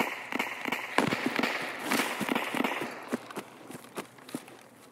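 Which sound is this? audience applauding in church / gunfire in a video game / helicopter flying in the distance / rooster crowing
gunfire in a video game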